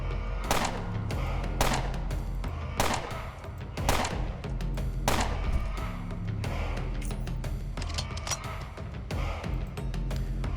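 Armor-piercing rounds fire in the video game Underrail, sharp repeated gunshot cracks in irregular bursts over a steady low game background.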